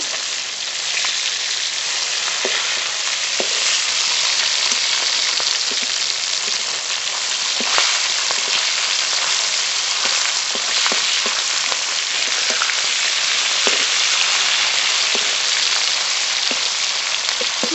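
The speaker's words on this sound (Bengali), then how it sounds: "ভালো করে ভেজে মাছ ভালো করে ভেজে নিয়েছি" Hilsa fish fries in hot oil. A dense, loud, steady sizzle with crackling pops goes on throughout, with no talking.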